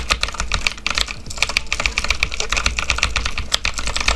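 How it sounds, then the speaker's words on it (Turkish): Rapid, steady typing on a computer keyboard, close and clear, with a continuous clatter of key presses and no voices. "Sadece benim klavye sesimi duyuyor olabilirsiniz."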